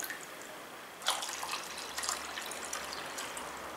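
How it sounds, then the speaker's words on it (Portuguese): Water poured into a hang-on-back aquarium filter spills from its small waterfall outlet, a steady close trickle and splash that swells after the first second and keeps running alone. "joga a água dentro do seu Hangyong até que você veja a água caindo aqui pela cachoeirinha"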